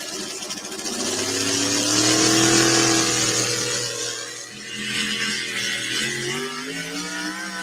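A Chevy Hemi engine powering the pulling truck Thumper roars loudly at high revs through a run, its pitch climbing, dipping briefly, then surging again.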